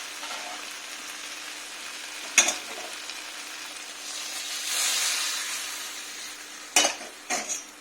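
Water poured into a hot pan of fish curry sends up a steady, broad hiss of steam and sizzle that swells midway, with sharp metallic clinks of a utensil against the pan.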